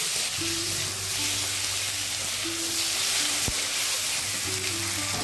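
Ginger and garlic paste fries in hot oil in a pan, a loud, steady, close sizzle running throughout, with a faint tonal hum and one brief sharp tap partway through.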